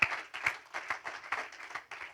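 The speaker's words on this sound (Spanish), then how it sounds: "Dale un aplauso al Señor." Applause from a congregation at an evangelistic church service, a short run of soft rhythmic claps, a few beats in under two seconds, fairly faint.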